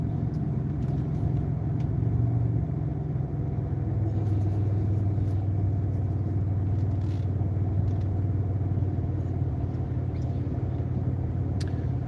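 A car slowing under gentle braking on a road, heard from inside as a steady low engine and road rumble whose pitch drops and settles over about twelve seconds, with no talking.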